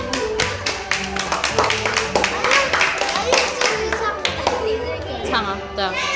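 Audience clapping for guests at a school assembly, sharp irregular hand claps running steadily throughout, mixed with crowd chatter and voices talking over it.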